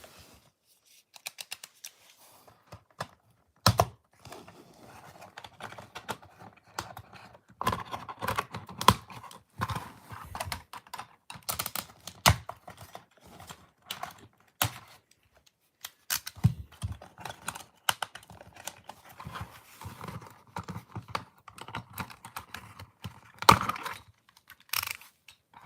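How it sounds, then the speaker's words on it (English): A Wheeljack toy figure is taken out of its plastic packaging, giving scattered close clicks, crinkles and snaps of plastic in irregular bursts with brief quiet gaps. "let's get him out of the packaging"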